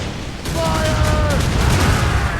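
Naval combat in Assassin's Creed Rogue, set among icebergs in 1758: a dense rolling barrage of gunfire and booms builds after a brief lull and continues loud and steady. Voices are heard in the background.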